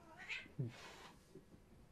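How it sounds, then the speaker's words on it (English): A cat gives a short, faint meow indoors, one brief cry followed by a softer trailing sound, with no talk over it. "that's a cat"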